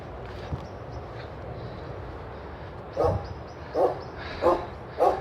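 A dog barks four times out in the distance among reeds and brambles, the sharp barks spaced about a second apart after a quiet stretch of outdoor ambience.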